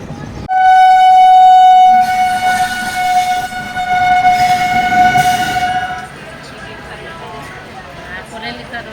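Train running through Punjab farmland, opening with a loud sustained horn blast for several seconds, then rumbling wheels and carriage noise that fades to a quieter rolling hum.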